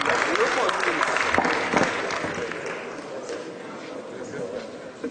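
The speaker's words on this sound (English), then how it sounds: "please give a round of applause to all the candidates" A town hall meeting crowd claps in a dense, sustained burst of applause that gradually tapers off across the whole stretch.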